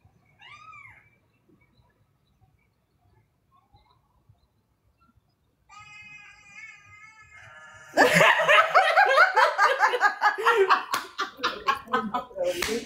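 A sheep gives a faint bleat early on, then a clearer wavering cry, followed by loud laughter and excited talking.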